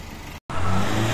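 Engine that belches thick black smoke when revved, cutting out for a split second before surging back in a loud, close, steady revving drone.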